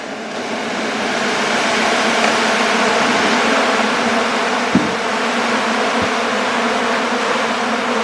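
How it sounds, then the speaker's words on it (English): Honeybees boil out of a nuc box fitted with a double screen board, a loud, dense, continuous buzzing swarm close by, with a couple of faint knocks partway through. "As noisy as they are, I expect a lot of bees to fly out."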